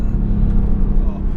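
A Mercedes-AMG GT R with turbocharged power pulls hard down the road, a steady deep engine rumble holding loud and close for a brief moment with no other sounds over it.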